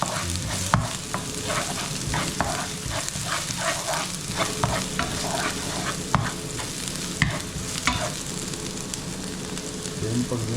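Onions sauté and start to brown in a pan as the base for eggplant adobo with ground pork, a loud continuous sizzle close up with rhythmic spatula scraping and occasional knocks against the pan.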